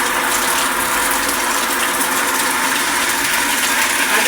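Water gushes out in a loud, steady rush, a constant broadband splashing flow that holds without a break from start to finish, with no voices.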